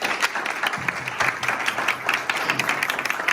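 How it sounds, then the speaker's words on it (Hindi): An audience claps in uneven bursts at a gathering in Chikhaldara, Maharashtra, the claps fairly close and loud with brief dips between. "ओके, ताली बजा सकते हैं"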